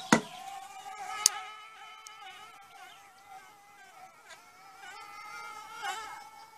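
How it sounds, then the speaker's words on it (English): A steady, close droning buzz of carpenter bees inside holes in old wooden shed poles, with a wavering pitch, punctuated by a couple of sharp clicks or taps. "these holes where these carpenter bees go in"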